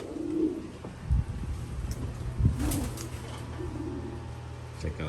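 Racing homing pigeons cooing softly inside a loft, with several low repeated coos at a close, moderate level and a few brief thumps and rustles between them.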